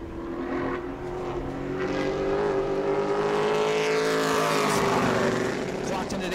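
Pro late model race cars at speed during qualifying at New Smyrna, with a steady loud engine roar whose pitch rises and falls as the cars circle, continuous throughout, with a commentator talking over it.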